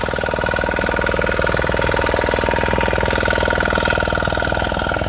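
A Honda generator engine runs rough and loud with a fast, steady knocking rattle over a constant mechanical drone. The clatter stays even and close throughout, with no voices.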